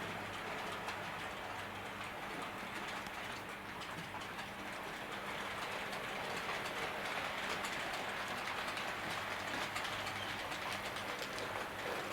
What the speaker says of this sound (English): You may just catch the loco in the background. And here it comes.